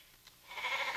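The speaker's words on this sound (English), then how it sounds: "No, those are sheep." A sheep bleats nearby, a single drawn-out wavering cry that rises partway through and holds to the end.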